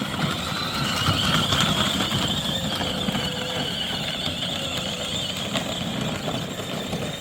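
Kids' 24V battery-powered 4x4 two-seater ride-on car driving, a steady, fairly loud motor and gear drone with rolling wheel noise that runs continuously throughout, without talk.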